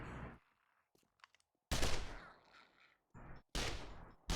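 Loud bursts of gunfire from a supposedly suppressed weapon in 7 Days to Die, heavy cracking shots in short clusters separated by near silence, close and unmuffled-sounding.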